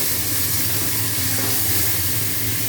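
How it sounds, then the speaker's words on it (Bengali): Spices and tomato hit frying onions in a pan, setting off a loud, continuous hissing sizzle that holds steady without pause. "এবারে মশলাটা ঢেলে দিলাম। সঙ্গে টমেটোটা দিয়ে দিলাম"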